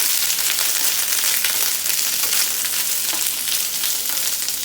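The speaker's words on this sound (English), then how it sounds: "I'm going to stir up the vegetables a little bit" Vegetables for yaki-style ramen sizzling steadily in a hot pan as they are stirred, a dense, even frying hiss that stays close and loud throughout with small crackles and no talk.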